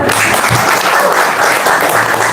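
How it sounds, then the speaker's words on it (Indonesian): Audience clapping in response to a call for applause, a dense steady patter of many hands filling the whole short stretch at close range, with no talk over it. "Tepuk tangan dong."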